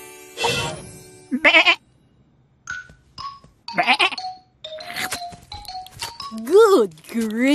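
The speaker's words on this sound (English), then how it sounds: "Goat!" A cartoon goat bleats in a bright, wavering cry amid a lively animated scene, with short chiming tones and character voices around it.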